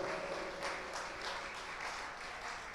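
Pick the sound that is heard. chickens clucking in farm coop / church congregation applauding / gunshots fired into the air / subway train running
church congregation applauding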